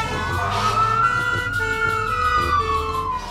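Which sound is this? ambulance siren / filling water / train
ambulance siren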